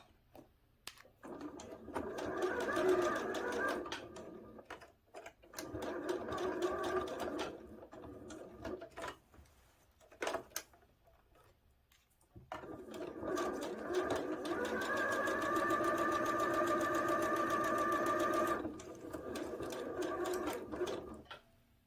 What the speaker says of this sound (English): We're just taking some time to stop and pivot around the shoulder seams and just taking time to not let the fabric gather.